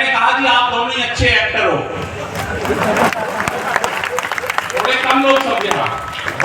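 Audience clapping and cheering at a Hindi kavi sammelan poetry gathering in Burhar, a steady wash of applause filling the whole stretch with crowd noise and some voices mixed in.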